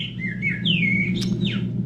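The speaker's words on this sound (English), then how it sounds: "so while I've got you, Ron, this is actually the common blackbird that we get around our house" A common blackbird calls close by in a series of clear, sliding whistled notes with a brief sharp chirp, heard over a low steady hum.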